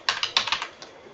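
Quick bursts of keystrokes on a computer keyboard as a prompt is typed, clustered taps in a short close run with a brief pause before a final key.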